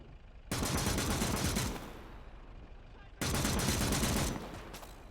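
Sustained gunfire in the WWII game Call to Arms: Gates of Hell, two loud bursts of rapid shooting separated by a quieter gap, with a voice talking between them.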